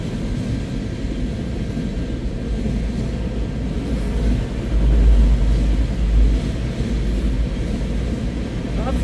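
A steady, heavy rumble of a CN freight train rolling past at Ladysmith, with deep low-end drone that swells in the middle and continues throughout.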